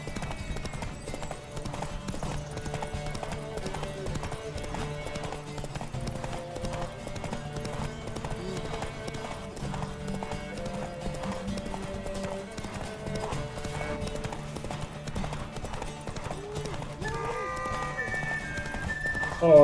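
In a video game, a horse's hooves clip-clop in a steady trotting rhythm, close and continuous, with a whinny near the end and music and talk underneath.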